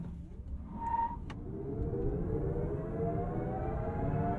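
A Genesis GV60 Performance electric SUV launches hard with its boost mode engaged, a rising electric motor whine climbing steadily in pitch as it accelerates, with a brief synthetic tone near the start.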